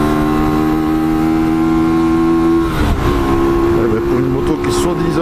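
Hyosung Aquila 125 motorcycle engine revving loud and steady with harmonic engine hum, a shift in pitch near the middle as the revs change, continuing at high volume throughout.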